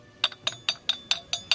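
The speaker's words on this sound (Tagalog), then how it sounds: "Ganun dapat yung tunog ng bakal." Seven sharp metallic clinks of iron being struck at a steady, even rhythm, bright and ringing briefly, with no one speaking.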